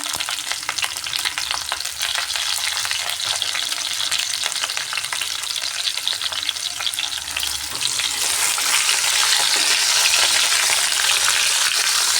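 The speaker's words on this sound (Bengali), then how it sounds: "পটলগুলোকে একদম নরম করে ভেজে নিতে হবে" Pointed gourd pieces frying in a pan with a little salt, a dense, loud crackling sizzle that swells stronger toward the end, with faint stirring scrapes underneath and no talking.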